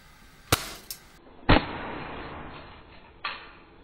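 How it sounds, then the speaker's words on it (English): A Sheridan Cowboy BB rifle firing into blocks of clay, sharp close reports with short impacts, a few separate cracks spaced over several seconds with quiet between them. "I want to shoot it with the BB gun."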